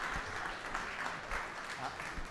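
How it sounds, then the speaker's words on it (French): Audience applauding award recipients at an agricultural innovation prize ceremony, dense continuous clapping at moderate distance, fairly quiet, with slight swells. "Vous pouvez les applaudir."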